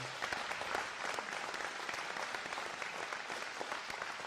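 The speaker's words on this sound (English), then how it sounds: "Let's give them all a round of applause, shall we?" Distant, fairly faint applause from a crowd honoring airshow pilots at a meet-the-pilots event, a continuous patter of many hands clapping with no voice over it.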